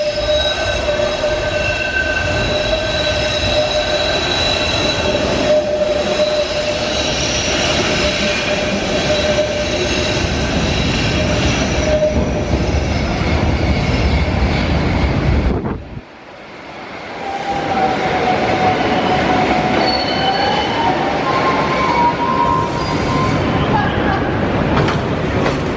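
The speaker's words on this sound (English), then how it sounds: "so that is a Waterfront line train," A Cleveland Waterfront Line light rail train rolls past close by, wheels squealing and rumbling steadily, then the noise drops away before another screech and clatter returns.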